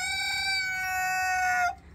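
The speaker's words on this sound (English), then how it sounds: "he is a tollbunt chicken. Tollbunt rooster, I'm sorry, to be exact" A Tollbunt rooster gives a single loud, near crow. The drawn-out, harmonic-rich call holds steady, then cuts off sharply, leaving quiet farmyard background with no talking.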